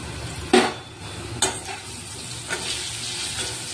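Small potatoes frying with salt and turmeric in a pan, a steady close sizzle broken by a few sharp scraping stirs.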